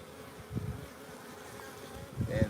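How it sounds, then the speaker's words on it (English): Honeybees buzz around the entrance of a beehive in a garden, with a close, faint drone that swells briefly twice as individual bees fly past. "What the bees are doing right now is they're coming in and out with the sides of their legs."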